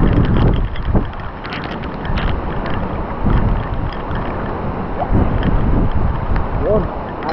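Rushing water current in a drainage canal during heavy rain and strong wind, a broad steady roar with gusty buffeting close to the microphone, voices speaking intermittently over it.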